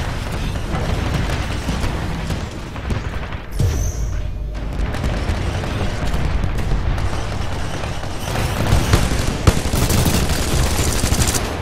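Continuous gunfire and booming weapon blasts from the shooter video game Titanfall 2, played loud and dense for the whole stretch with brief dips and a sharp crack near the end.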